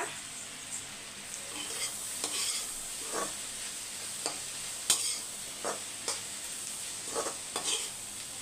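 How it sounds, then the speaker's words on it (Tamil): Food in a pan is stirred and mixed with a spoon, a quiet sizzle under a series of soft scraping strokes spaced about a second apart, close and faint. "நல்லா மிக்ஸ் பண்ணி விட்டுருங்க"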